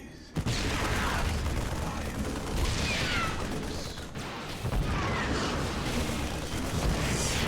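A siege tank fires during a StarCraft battle, heavy booms and crashes layered in dense, continuous combat noise that stays loud throughout.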